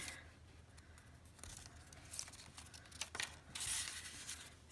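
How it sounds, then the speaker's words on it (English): Scissors snip through folded paper to cut out a chain of paper people, giving faint, close snips and soft paper rustling at an irregular pace. "Now you're going to carefully cut this out."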